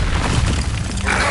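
Incendio fire spell cast in Hogwarts Legacy, a loud whooshing, booming burst of flame that roars continuously through the short moment, with a brighter crackle near the end.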